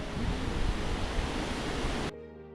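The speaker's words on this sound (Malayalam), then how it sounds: "നമ്മൾ വെള്ളച്ചാട്ടത്തിൻ്റെ അടുത്ത് എത്തി കേട്ടോ" A steady, loud roar of rushing water fills the air without pause, then cuts off abruptly near the end.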